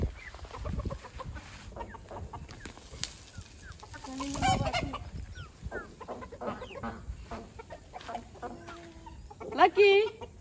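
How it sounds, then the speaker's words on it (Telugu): A fighting rooster on a farm clucks and calls in short bursts, close by, with a louder squawk near the end and people talking softly around it. "పందెం కోడి లెక్క చూడు."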